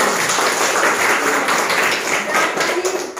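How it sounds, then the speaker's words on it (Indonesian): A classroom of students claps during a lesson on statistics, producing a dense, loud, continuous patter of hands that holds steady for a few seconds. "Oke, bagus sekali. Tepuk tangan."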